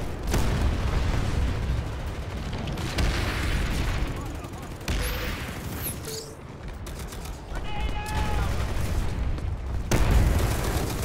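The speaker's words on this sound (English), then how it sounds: "Grenade out." Grenade explosion amid a dense battle in Planetside, with booms and rapid gunfire rolling continuously, loud and chaotic, with voices talking over the action.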